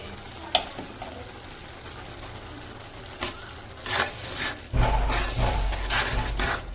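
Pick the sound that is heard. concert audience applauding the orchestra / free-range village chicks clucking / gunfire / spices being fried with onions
spices being fried with onions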